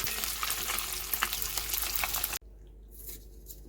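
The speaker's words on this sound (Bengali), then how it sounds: "হলুদ নুন দিয়ে ডিমটাকে ভেজে নেব" An egg fries with turmeric and salt in hot oil, a loud dense sizzle that cuts off abruptly partway, leaving a quieter hiss.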